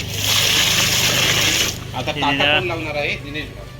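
Water splashed over freshly caught creek fish in a basket, a loud gushing spray for the first half, then fading as someone talks.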